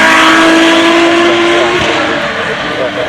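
A Speedster supercar with the 4-litre flat-six from the GT3 accelerates at the Goodwood Festival of Speed 2019, a loud, close, high engine drone with a sustained tone that eases slightly as it moves off.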